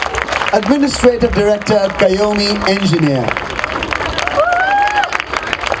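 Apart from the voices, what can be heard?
audience applause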